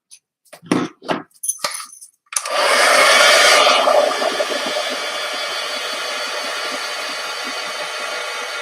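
Hair dryer blowing to dry wet paint, switching on loud after a few short clinks and handling noises, then a steady close whoosh that settles slightly quieter and runs continuously without talk.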